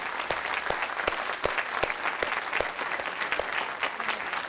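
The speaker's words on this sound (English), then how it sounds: "big round of applause" A studio audience gives a round of applause, steady crowd clapping with distinct sharp individual claps standing out throughout, moderately loud and without speech.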